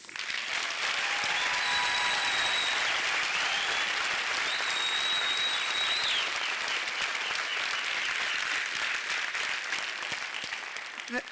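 A graduation audience at a University of South Africa autumn ceremony claps steadily and loudly for a round of applause honouring Chancellor President Mbeki, with faint tonal whistles or ululation rising briefly above the sustained crowd clapping.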